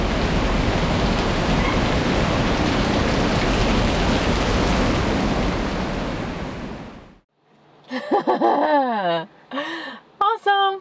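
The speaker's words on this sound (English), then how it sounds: "I'm actually thankful for the rain" Heavy rain pours loudly and steadily at Watkins Glen State Park, a close, dense hiss for about seven seconds before stopping abruptly, followed by people talking and exclaiming.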